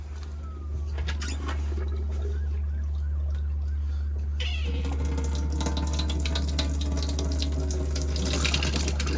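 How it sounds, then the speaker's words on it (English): A tap in an Auto-Trail V-Line 635 Sport motorhome runs steadily, then the flow turns rougher and sputters after the boiler has been drained, with a constant low hum underneath. "on cold you get a pressurized flow of water, but then as you soon start to change it, it'll start to splutter"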